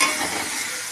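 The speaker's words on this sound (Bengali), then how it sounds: "এবার আমি এটাকে ভালোভাবে নাড়াচাড়া করতে থাকবো যতক্ষণ না" Chicken pieces with salt, turmeric and spices stirred in hot frying oil, giving a steady close sizzle with a scraping stir near the start and no voices.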